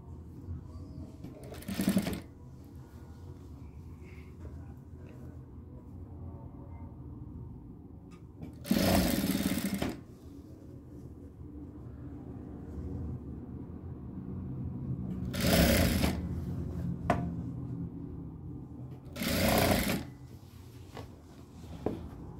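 Sewing machine stitching thin piping onto a kameez neckline, with short bursts of quiet mechanical whirring separated by pauses in a soft room.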